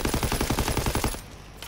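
A rapid machine-gun burst in Call of Duty: WWII, around a dozen evenly spaced shots fired close, cutting off abruptly into a quieter tail.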